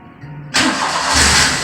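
A car engine starting during a battery check: a brief low whir of the starter, then the engine catching abruptly and settling into a loud, steady idle nearby.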